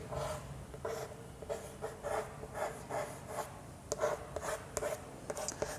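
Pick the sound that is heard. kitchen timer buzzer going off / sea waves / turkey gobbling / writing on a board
writing on a board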